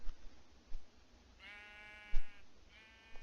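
Two separate sheep bleats in the TerraFirmaCraft video game, moderately close, each a wavering tremulous call lasting about a second, with a couple of soft thumps between them and no talking.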